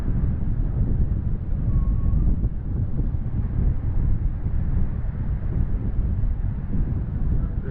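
Strong, gusty wind at the seaside in Anapa roars and buffets the microphone in a continuous low rumble, close and loud throughout, with no voices.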